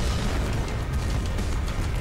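A thrown bomb explodes in a Skibidi Toilet animation, a loud sustained blast with a dense low-end rumble that fills the whole two seconds without letup.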